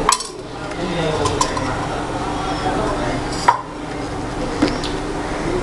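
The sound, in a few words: hilsa fish being mixed with mustard oil by hand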